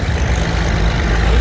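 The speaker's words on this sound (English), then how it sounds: "There's a Turbo HD right there plowing." A Turbo HD tractor plowing a field at a vintage farm show, a loud, steady low engine drone with constant rumble and no talk.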